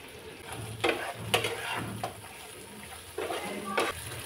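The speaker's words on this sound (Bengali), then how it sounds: "হালকা করে এবার একটু নেড়ে নেব" Narkel chicken being stirred in a pan, with a few scraping spoon strokes over a soft sizzle of frying spices and coconut.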